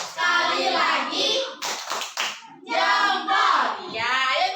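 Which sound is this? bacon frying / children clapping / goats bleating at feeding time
children clapping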